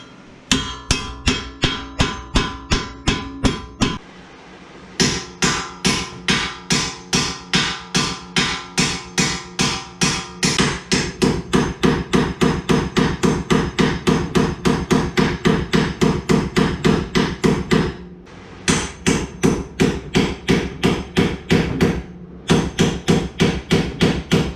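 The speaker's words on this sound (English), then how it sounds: "And then we have to hammer these suckers out." Parts are hammered out of a 2019 Mustang GT with rapid, steady metal-on-metal hammer blows, close and loud, broken by a few short pauses.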